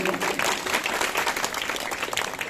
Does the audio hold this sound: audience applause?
yes